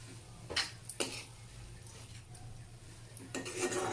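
Cluster beans stir-fried with fresh coconut and green chillies in a pan, with intermittent scraping clacks of a spatula against the pan over a low steady hum, a burst of scraping near the end.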